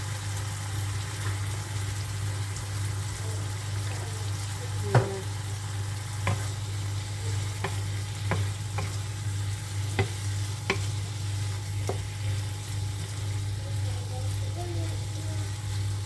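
Vegetables with turmeric frying in a pan, a steady low sizzle throughout with sparse sharp clicks of a utensil stirring and scraping, close and continuous with no voices.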